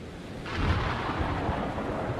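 A thunderstorm in the video game Man of Medan gives a deep, loud roll of thunder. It swells after half a second and rumbles on steadily to the end, with a broad wash of storm noise.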